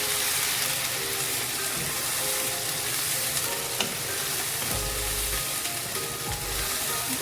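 Onion paste hits hot oil spiced with cinnamon pieces for chicken rezala, giving a loud, dense, continuous sizzle with a few low thumps of stirring near the end, no voices.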